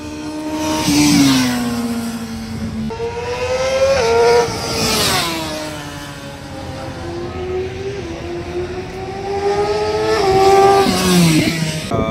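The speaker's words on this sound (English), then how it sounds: "People are just, taking out the bike, riding it on the track." BMW motorcycles, including an XR, ride laps at the Chennai racetrack during a track session, loud engines rising and falling in pitch as they accelerate, shift and pass nearby in overlapping waves.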